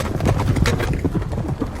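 Horse hooves clip-clopping as a band of Mongolian horsemen ride up in a film scene, a busy, close patter of hoofbeats with wind noise through it.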